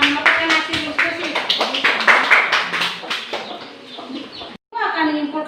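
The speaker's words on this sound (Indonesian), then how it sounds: "Kita berikan aplaus untuk kedua kelompok yang telah melakukan hasil diskusi." Classroom applause for two discussion groups: a burst of many hands clapping together, loud and close, that fades out over several seconds, followed by a brief silence and then a voice speaking.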